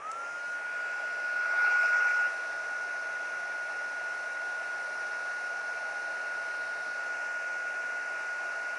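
A heat tool blows hot air to heat set embossing powder on a papercraft window scene, a steady airy whoosh that runs throughout with a brief louder swell early on, with no talking over it.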